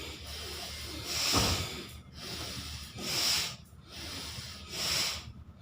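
Quick, forceful breaths pushed in and out through the nose in a breathing exercise for seniors, three hissing, snort-like bursts at an even pace with short gaps between them, close and clear without talk.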